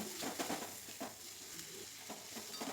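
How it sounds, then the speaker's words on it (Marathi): Turmeric, red chili powder and garam masala with chutney are stirred together in a frying pan for dry matki bhaji, making soft repeated scraping strokes over a faint sizzle, quiet and close, with no voices. "सगळीकडे मसाला लागेपर्यंत हलवते"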